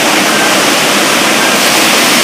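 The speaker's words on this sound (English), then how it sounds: "Oh, look out, a water main broke!" Loud, continuous rushing water from a burst water main in a theme-park earthquake attraction, a dense steady roar like a gushing torrent with no pauses.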